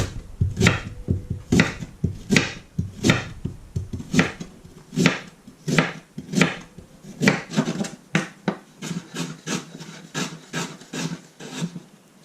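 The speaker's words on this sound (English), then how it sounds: "In fact, I need to chop up the ginger" A knife chops fresh ginger root for a hot herbal compress: steady, close, rhythmic cuts on a board that keep going without pause, with no talk over them.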